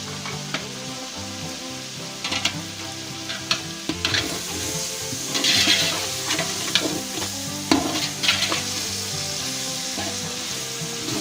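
Beef frying and being stirred with salt, black pepper, whole garam masala and red chili for Kabuli Afghani pulao, a loud continuous sizzle with repeated scraping stirs and no talk.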